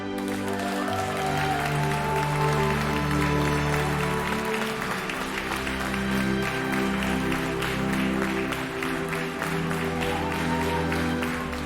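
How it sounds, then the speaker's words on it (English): An audience applauds at the end of a stage play, a steady wash of clapping held at an even level for the whole stretch over a sustained tonal background. "Everyone started applauding."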